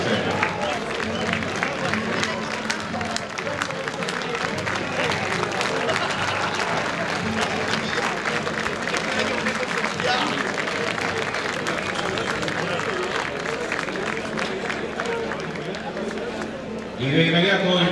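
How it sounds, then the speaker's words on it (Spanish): Long steady applause from a rodeo crowd honoring foremen and former Chilean champions at a national rodeo series, continuous clapping at a constant level with a brief shift near the end. "el aplauso a los capataces, ex campeones de Chile que nos han acompañado en esta serie"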